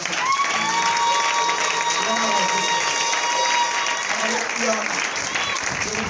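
A church congregation applauds and cheers for Jesus in steady, dense clapping that fills the room, with voices and a sustained sung or shouted tone riding over it throughout.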